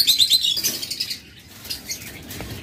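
Caged mutation-bred pet birds give high, rapid chirps and a brief burst of fluttering wingbeats at the start, then quieter scattered calls over a low background rustle, close by.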